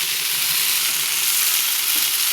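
Vegetables for shukto, including potol, fry in oil in a pan with a steady, loud, close sizzle and hiss that holds without a break, with no voices.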